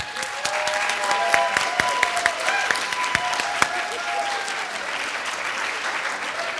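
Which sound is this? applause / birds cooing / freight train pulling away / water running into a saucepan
applause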